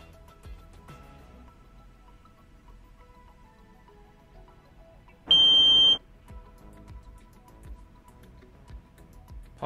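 In a quiet room, a single loud, sharp electronic alarm beep from an Amplus AM04171 countdown timer sounds for under a second, then quiet returns.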